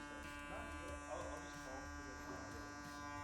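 Electric hair clippers buzz with a steady, fairly quiet drone while cutting a fade, the hum holding constant across the short stretch with slight rises as the blade passes through hair.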